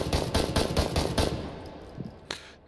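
Rapid gunfire from a firearm in the VR game Hot Dogs, Horseshoes & Hand Grenades: a quick burst of about eight close, loud shots in steady rhythm, then a pause and a couple of fainter isolated shots.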